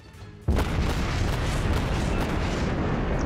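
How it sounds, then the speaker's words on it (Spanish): A heavy naval gun salvo booms suddenly from the Japanese cruiser Mogami in the World of Warships video game, one loud blast that then rumbles on in a sustained low roar. "De vez en cuando atiño los tiros y como veis hacen daño."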